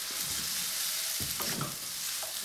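Fried chili oil noodles are tossed in a pan over a steady sizzle, with a few scraping and shuffling stir sounds in the middle and no voices.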